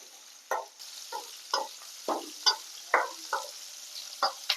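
Onions sauté in a pan with rock salt for a spicy kara kuzhambu, soft frying sizzle broken by about ten quick stirring scrapes at an uneven rhythm, fairly quiet and close, with no voices.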